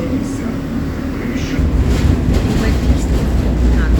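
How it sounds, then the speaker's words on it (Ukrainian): An old tram runs along Dehtiarivska Street in Kyiv, a steady low rumble of wheels and motor under a continuous hiss of wind and ride noise, with people talking over it. "А ми їдемо по вулиці Дегтярівській на старенькому трамвайчику."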